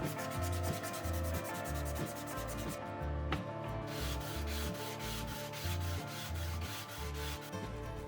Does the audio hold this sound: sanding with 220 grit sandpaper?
yes